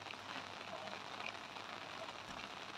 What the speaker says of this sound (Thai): ชมบรรยากาศฝนตกสัก 2-3 นาทีนะคะ